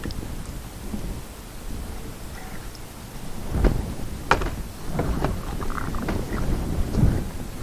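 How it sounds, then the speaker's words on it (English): Water poured over the roof of a GMC Acadia near the sunroof drains splashes and patters in uneven bursts, with sharper gushes standing out against a rushing, rain-like wash. "to simulate rain, we will pour some water in"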